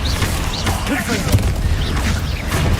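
Confringo spell explosions going off in Hogwarts Legacy, loud booming bursts and crackling impacts in quick succession over a busy, steady wash of game combat sound.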